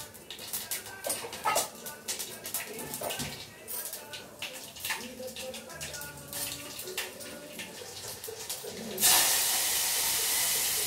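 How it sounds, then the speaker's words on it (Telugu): Cumin, mustard seeds, garlic cloves and coriander drop into hot oil for tempering. Scattered clinks and light kitchen clatter come first, then a sudden loud, sustained hissing sizzle starts near the end. "నార్మల్గా జీలకర్ర, ఆవాలు, వెల్లుల్లి రెబ్బలు, కొత్తిమీర వేసేసి పోపు వేసేస్తున్నానండి."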